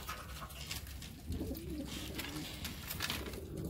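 Soft, throaty pigeon coos roll in after a moment of quiet rustling, repeating faintly at a short distance.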